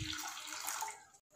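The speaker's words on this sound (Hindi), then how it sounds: "2 ग्लास पानी डालेंगे।" Two glasses of water are poured into a pressure cooker while aubergine is prepared for bharta, giving a steady, close splashing gush that cuts off abruptly.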